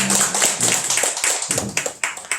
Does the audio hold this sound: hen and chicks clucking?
no